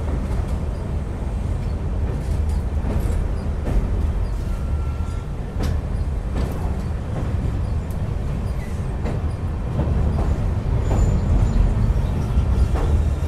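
A passenger train rolls over a bridge on the Sairang–Bairabi railway in Mizoram, giving a sustained loud rumble with faint rattles and clicks throughout, heard close from inside the train, no voices.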